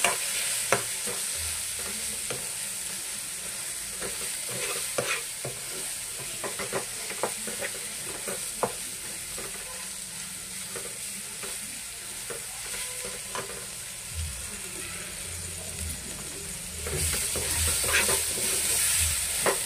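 Mushroom curry with coriander powder is stirred in a sizzling pan, giving a steady low fry with scattered spoon scrapes and clicks, close up and without talk.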